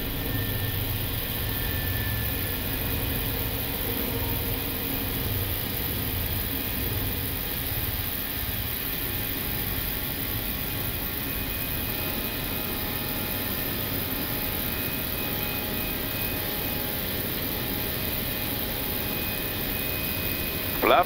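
Steady, loud roar of an Air Cote D'Ivoire Airbus A319's jet engines during takeoff climb, heard from inside the cockpit as a constant broadband drone with a low hum, unbroken throughout.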